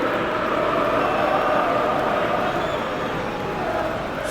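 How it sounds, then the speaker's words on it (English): Steady roar of a stadium crowd in a simulated Premier League football match between Manchester United and Chelsea, a dense, constant wash of crowd noise at moderate loudness with no distinct peaks. "the crowd clearly like what they just saw"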